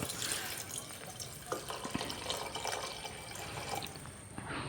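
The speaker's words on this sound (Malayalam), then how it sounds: "ഒരു ലിറ്റർ വെള്ളം നാല് കപ്പ് വെള്ളം ഞാൻ ഒഴിച്ചിട്ടുണ്ട്" Steady splashing of water pouring into a pot for mutton soup, with faint drips and clinks, fairly quiet and uninterrupted, no speech.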